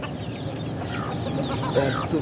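A red native hen kept in a cage clucks in short, repeated calls close by, over a busy background of farm noise and no speech.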